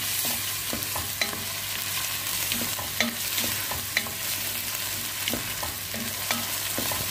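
Garlic and ginger frying in a pan for an okra and potato dish, a steady close sizzle with a low hum beneath and regular scraping taps as a spatula stirs, no voices.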